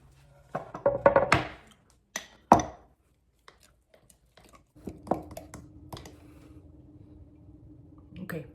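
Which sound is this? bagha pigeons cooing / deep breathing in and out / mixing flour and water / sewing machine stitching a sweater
mixing flour and water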